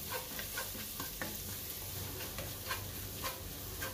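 Ginger and garlic fry in oil in a pan for bread masala, giving a steady close sizzle throughout with scattered soft stirring clicks and scrapes of a utensil; no voices.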